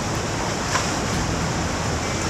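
A river rushes right beside an outdoor hot spring at Iya Onsen in Tokushima, a continuous close, broad roar of flowing water with no voices.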